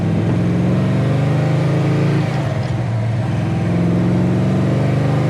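A 1969 Chevrolet Chevelle SS 396 convertible's big V8 revs up steadily through power shifts, a loud, close, continuous engine roar with rising and falling pitch and no talk over it.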